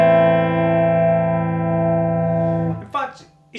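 A clean electric guitar chord through a Mesa Boogie Electra Dyne amp's clean channel at 45 watts rings out and sustains for a few seconds, then a voice speaks briefly as it fades.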